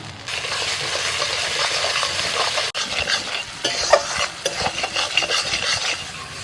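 Spice masala for dhaba-style dal makhani sizzles and fries in a pan while a spoon stirs and scrapes through it, a close, continuous crackling hiss with rhythmic scraping strokes and no talking.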